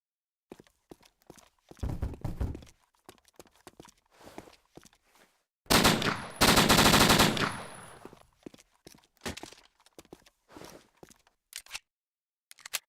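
Modified gunfire in the zombie shooter No More Room in Hell: scattered single shots and short bursts, then a long sustained loud automatic volley in the middle, followed by more sparse clicks and shots.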